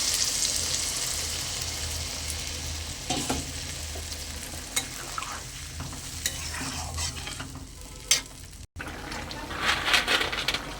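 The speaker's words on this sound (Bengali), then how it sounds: "এবার আমি পরিমাণ মতো জল দিয়ে দেবো।" Water poured into a pan of frying mixed-vegetable bori curry, with loud steady sizzling and a spoon stirring and scraping against the pan, occasional sharp clinks, close by and without speech.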